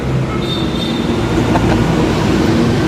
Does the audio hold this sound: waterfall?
no